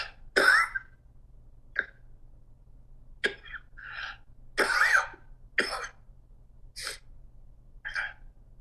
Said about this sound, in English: but I'm coughing even more.